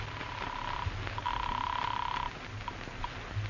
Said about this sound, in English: Finally, you put in a phone call.